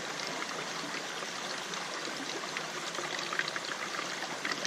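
A steady stream of water trickles and pours continuously, close by, as it is squeezed through a hiking water filter, with no talking.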